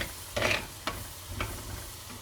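Fresh dill sautéed in a pan for a Gilan-style Persian broad bean stew, with soft frying hiss and a few distinct stirring scrapes of a utensil against the pan, quiet and close.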